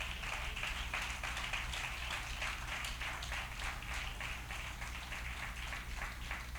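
A church congregation claps in steady, dense applause that carries evenly and fairly loud from start to finish, with no break or fade.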